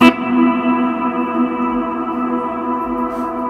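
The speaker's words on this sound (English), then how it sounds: "if I turn this decay knob all the way up, the reverb just goes on." A guitar note rings through a reverb effect pedal with its decay knob turned fully up, the tail sustaining almost unchanged for several seconds as a dense, steady wash, alone without talk.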